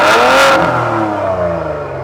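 A Rolls Royce engine with red interior, warmed up, revs loudly and close, a rising surge that settles into a steady high idle drone with no talking.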